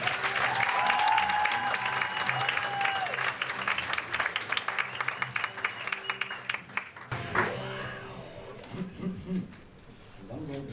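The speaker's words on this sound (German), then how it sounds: "Und ich bitte euch, vollkommen auszurasten und ihn mit dem größten Applaus zu begrüßen" Loud, dense audience applause fills a crowded poetry slam event in Germany as a poet is welcomed to the stage, steady clapping with scattered cheers, then thinning partway through as an announcer's voice comes in over the fading claps.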